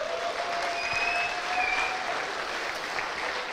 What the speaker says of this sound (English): please give a warm round of applause for her as well.